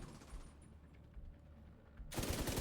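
Shotgun fire in the video game The Division 2 comes as a sudden loud burst near the end, after a quieter stretch of low rumbling and scattered distant thuds.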